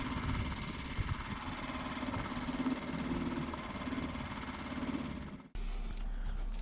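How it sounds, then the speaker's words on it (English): A small outboard motor drives a dinghy through the confined waters of Broad Creek, a steady buzzing drone running close and unchanged before cutting out abruptly. "I use my dinghy with a small outboard to maneuver her in the confined waters of Broad Creek"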